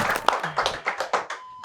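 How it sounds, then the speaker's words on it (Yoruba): A studio audience at the Yoruba-language game show Masoyinbo claps briefly, giving about half a dozen quick, evenly spaced hand claps that are close and fairly soft. "ẹ bá ń pàtẹ́wọ́ fúnra mi"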